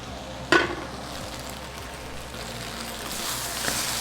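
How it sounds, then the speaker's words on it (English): Potatoes stirred in a pan on the stove with the heat just turned off: a sharp utensil knock near the start, then a steady low frying hiss and faint scraping, close by. "Stir, make sure bottom not get burned."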